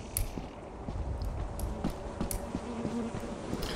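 Insect buzzing from bees in the video game Lethal Company, a steady low drone running throughout with faint footsteps and scattered clicks over it.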